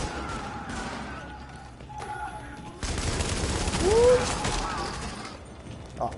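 Gunfire in the multiplayer video game The Division, a dense burst of shots that swells louder midway through and carries on under faint background game noise.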